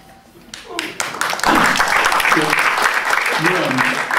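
An audience at a Seattle poetry reading bursts into applause after a poem; scattered early claps swell into a full, steady round by the middle, with a voice talking over the clapping.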